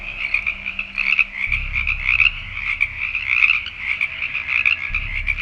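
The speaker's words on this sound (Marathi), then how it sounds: "बेडकांच्या आणि रातकिड्यांच्या आवाजाने रात्रीची शांतता भंग होत होती." Frogs croak at night after rain in a steady, pulsing chorus, loud and close, with a low rumble in the background and no voices.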